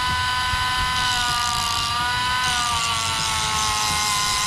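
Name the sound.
Hart grinder switched on and running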